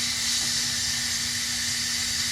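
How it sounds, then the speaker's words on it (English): Steam hisses hard and continuously from an Instant Pot during a quick pressure release after cooking a pot roast with carrots and potatoes, a loud, even jet with a faint steady tone underneath and no talking. "I'm going to quick release it again"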